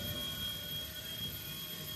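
A BO-105 RC Era model helicopter in flight, giving a steady, continuous turbine-like whine and rotor hum with a sharp high-pitched tone, holding a constant level throughout without pauses.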